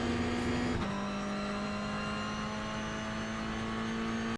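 Toyota GR86 in iRacing at Okayama International accelerating out of a corner, a loud, close, sustained engine drone that steps in pitch early on and then holds steady under throttle.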